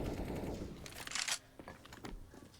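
Desert Eagle pistol fire in a Counter-Strike esports match, a burst of sharp shots packed close together in the first second and a half, then scattered fainter clicks and bangs of game action.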